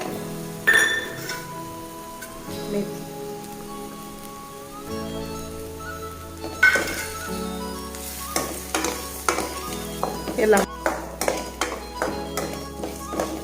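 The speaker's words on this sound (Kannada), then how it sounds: "ಮಿಕ್ಸ್ ಮಾಡಿಕೊಂಡು ಚೆನ್ನಾಗಿ ಫ್ರೈ ಮಾಡಿ ಸ್ವಲ್ಪ ಹೊತ್ತು." Coriander seeds, cumin and black pepper are fried in a pan for a chicken sukka, with a light crackle and repeated scraping stirs and taps of a spoon, close and without speech.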